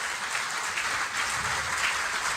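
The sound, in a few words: audience applause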